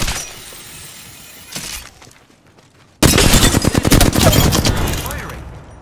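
Gunfire in the Apex Legends video game starts with quieter scattered shots and crackle, then breaks into a loud, sustained rapid burst of automatic fire with sharp impacts.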